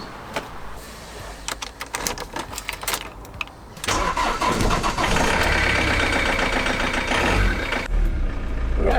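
A Ford Transit 2.2 FWD van engine turns over, then settles into a steady, loud idle as it warms up, close by and continuous, with no talking.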